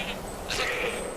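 A goat bleats in the snowy mountains of Skyrim near the Throat of the World, two short nasal calls over a steady hiss of wind and game ambience.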